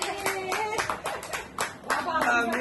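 Hands clap in quick, irregular bursts at a family wedding, loud and close, with voices speaking over and between the claps.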